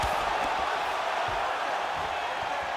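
A dense arena crowd in the EA Sports UFC 5 fighting game roars in a continuous wash of noise, with a few dull thuds beneath it.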